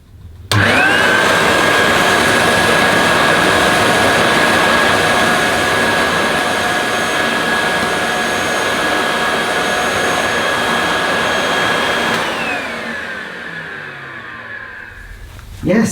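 A 1977 Hoover S3005 Celebrity Air Ride vacuum cleaner starts abruptly and runs with a loud, steady whining roar, then winds down to a fading hum as it switches off.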